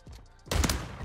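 Gunfire in Call of Duty Warzone 3 bursts out as a sudden loud volley of overlapping shots, preceded by quieter game ambience.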